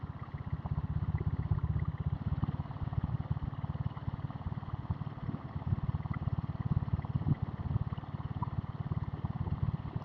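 Diesel Royal Enfield Bullet motorcycle cruising on a road between Tambaram and Maraimalai Nagar, a steady low thumping engine drone with rapid pulsing beats and road and wind noise, continuous and close throughout.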